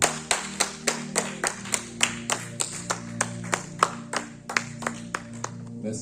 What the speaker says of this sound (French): Donc, tu vas acclamer le Seigneur Jésus.